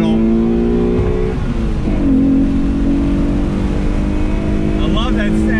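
A front-wheel-drive 1994 Mitsubishi FTO on older tires pulls out of a turn on throttle, its engine note climbing loud and smooth in a steady rising drone, with someone speaking over it.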